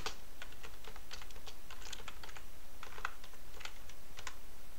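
Rapid, uneven keystrokes on a computer keyboard as keyboard shortcuts are typed during an Arch Linux installation with Xfce, clattering steadily over a constant background hiss with no voices.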